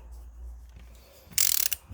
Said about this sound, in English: I just buttoned it down a little bit, so I'm torquing it in 2 passes essentially.